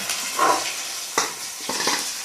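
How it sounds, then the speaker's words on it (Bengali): Katla fish pieces drop into hot oil, with a close sizzle that flares in short bursts as each piece goes in, over a steady hiss of frying. "তারপর মাছগুলো চলে গেল তেলে"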